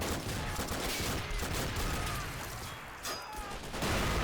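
Heavy gunfire from tanks and infantry fills a war video game battle, a dense, continuous barrage of overlapping shots and blasts that stays loud throughout.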